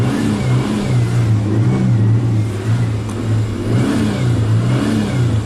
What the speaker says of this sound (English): Seems to rev up pretty good.